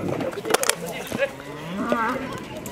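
Camargue bulls at a manade, a bull-breeding ranch, low repeatedly in a few drawn-out calls over open-air background noise.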